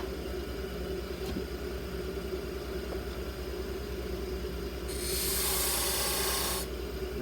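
A skew chisel cuts a turned wooden foot spinning on a lathe, a continuous low motor drone under a soft rasping cut, with a brighter, louder shaving sweep near the end.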